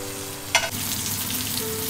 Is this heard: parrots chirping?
no